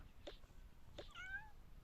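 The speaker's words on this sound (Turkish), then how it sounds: "Şurada da bir kedimiz var." A small cat, indoors among other animals, gives two faint meows, a short one followed by a longer rising call, quiet and close.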